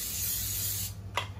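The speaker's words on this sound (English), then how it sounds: "Spray cooking oil on it." Cooking oil sprayed onto a pancake pan for viral TikTok mini pancakes: a steady close hiss runs for about a second, then a shorter second burst follows after a brief pause.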